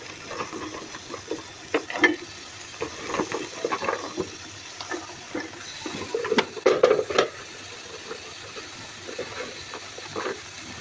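Curry with new potatoes cooking in a pan, soft stirring scrapes and light sizzling with a few clinks against the pan, close and moderate, no one speaking.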